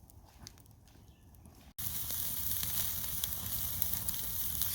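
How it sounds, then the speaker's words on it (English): Steaks sizzling over a hot fire outdoors, a steady bright crackling hiss that starts abruptly partway through and continues loud and constant to the end. "steaks are cooking"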